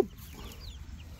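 Chickens cluck softly, kept together with a duck at a farm in the Philippines, a few faint, scattered clucks against quiet background noise.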